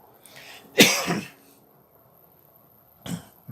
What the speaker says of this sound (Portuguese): Desculpe, mas eu tô com uma tosse seca